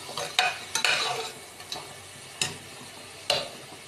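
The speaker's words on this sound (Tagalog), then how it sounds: "mekos-mekos tayo lang guys. Hanggang sa mag-golden brown." Butter shrimp being stirred in a hot pan, a steady frying sizzle broken by a few sharp scraping clicks of the utensil against the pan, up close, with no talking.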